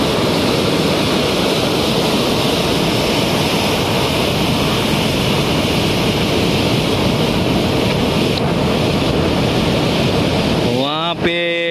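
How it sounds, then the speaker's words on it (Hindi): A flooded, overflowing river in Valsad rushes loudly and steadily near the confluence of two rivers, a dense broadband roar with wind buffeting the microphone; a voice cuts in briefly at the very end. "पानी का रौद्र रूप।"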